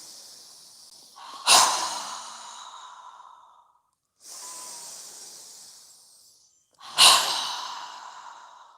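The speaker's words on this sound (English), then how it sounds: "exhaling with a strong exhale with our mouth open wide" Strong, forceful exhales through a wide-open mouth during yoga breathing, three close breaths, two sharp whooshing ones with a gentler breath between them, separated by quiet pauses.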